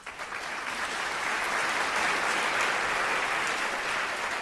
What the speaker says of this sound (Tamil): தயவு செய்து நல்லா கைத்தட்டும்